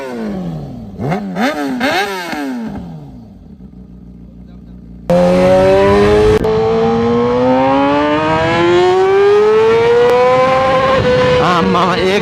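A touring motorcycle engine revs in rising and falling sweeps, then blares loud and close as it climbs steadily in pitch under hard throttle.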